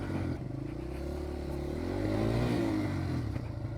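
A motorcycle ridden off-road on tight trail sections produces a steady, fairly close engine drone that rises and falls slightly with throttle, with no talking.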